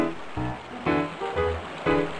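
River water flows and surges in repeated swelling rushes, close and moderately loud, with no talking.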